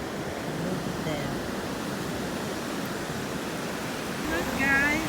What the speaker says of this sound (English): watch the ocean. The waves are coming.